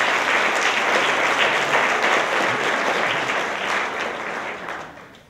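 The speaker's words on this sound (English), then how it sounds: "Let's give him a big round of applause as he receives this award." Sustained applause from a large audience, dense and loud throughout, gradually fading away in the final second.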